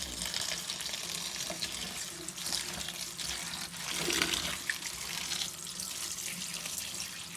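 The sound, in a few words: washing mustard greens and spinach in water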